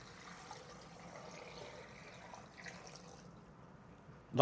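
Sweetened dark vinegar pouring steadily into a pot with a continuous splashing trickle, ending in a sudden louder knock.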